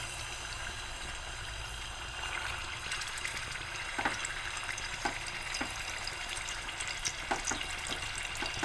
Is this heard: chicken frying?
yes